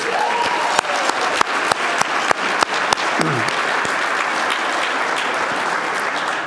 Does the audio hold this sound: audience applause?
yes